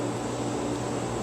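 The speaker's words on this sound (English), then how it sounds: "it's hard to hear over the sound of the AC and the pool pump and everything else running." An air conditioner and a pool pump run together in a steady, unchanging mechanical drone with a faint hum beneath it, constant throughout and with no voices.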